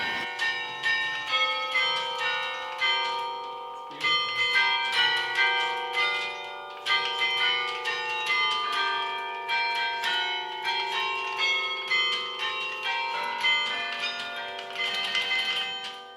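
Davis Memorial Carillon bells at Alfred ring out the opening lines of the alma mater, a steady melodic sequence of struck bell tones with long ringing overtones, loud and clear with no talking.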